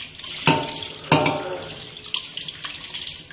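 Water runs from a kitchen tap while dishes are washed, giving a close splashing gush with two sharp bursts early on and then softer trickling and clinks.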